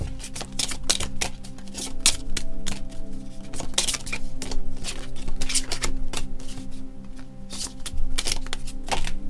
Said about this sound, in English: Let's try shuffling that separately.